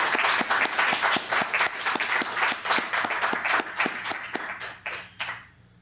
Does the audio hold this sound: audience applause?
yes